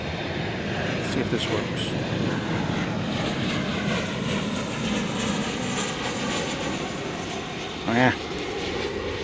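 An airliner landing at Dallas Fort Worth airport at night, flight 1565 from Denver, a steady distant jet roar throughout with a person talking over it briefly near the start.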